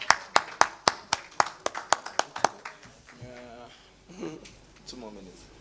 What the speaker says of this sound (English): Please, everyone, a round of applause for them as they do this.